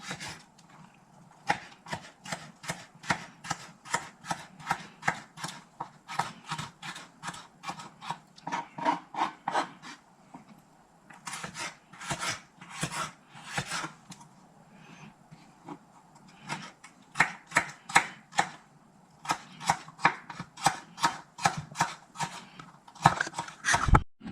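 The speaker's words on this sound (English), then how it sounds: "So now these I'm chopping a little bit bigger, but not too big, because they won't be cooking very long" A knife chops carrots on a cutting board while sausage risotto is being made. Quick, regular strokes come close up in steady bursts with brief pauses between runs, and no one speaks.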